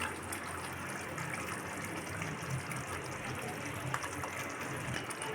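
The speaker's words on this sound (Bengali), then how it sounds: "ভেজে রাখা মাছগুলোকে এখন দিয়ে দেওয়া হচ্ছে।" Fried tyangra fish go into a pan of oily curry, giving a steady, dense bubbling and sizzling wash that holds at an even level for several seconds with no voices.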